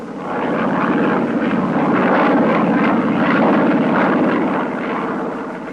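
Drone of a loaded military strike plane in flight on a 1967 bombing mission over Laos, a steady, loud engine roar sustained throughout with no talk.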